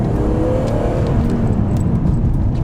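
A BMW Z3M Coupe engine drones steadily and loudly at close range, its throttle held as the car pulls forward with a continuous whirring, rumbling tone and no voices over it.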